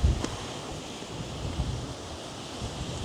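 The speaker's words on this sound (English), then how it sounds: "The wind's just welled up" Steady wind rushes and buffets the microphone outdoors in the mountains of New Zealand, a low rumbling roar with no voices.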